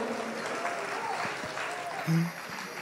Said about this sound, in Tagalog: Ang lahat ng anak na Diyos ay pumalakpak sa ating pinakamamahal na Jesus.